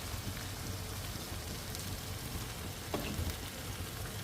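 Food frying in hot oil in a home kitchen pot, a steady close sizzle and crackle with occasional louder pops, continuous throughout with no talking.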